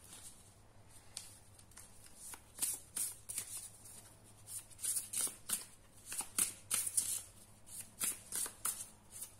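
Tarot cards shuffled and drawn by hand, a series of crisp riffling and flicking bursts in irregular rhythm, close and clear against a quiet room with a faint steady hum.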